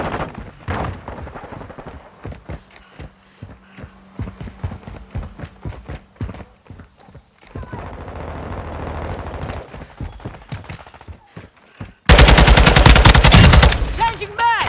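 Bursts of TAQ 56 (FN SCAR-L) assault rifle fire in Modern Warfare II at Mercado Las Almas, fired as clustered sharp shots, with a very loud, dense burst near the end.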